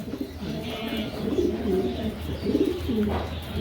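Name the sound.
pair of Hungarian Budapest pigeons cooing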